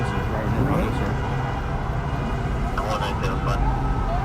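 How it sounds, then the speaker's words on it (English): Police patrol cars circle through city streets during a protest, their sirens wailing in rising and falling sweeps under nearby talking and traffic noise. "they're using their sirens and driving around in circles"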